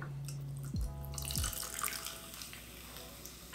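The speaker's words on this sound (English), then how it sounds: "we're gonna top it up with about 3 ounces of soda water." Soda water pours into a Collins glass of gin, tonic syrup and ice, a close, steady fizzing splash that begins after a second of quiet and continues to the end.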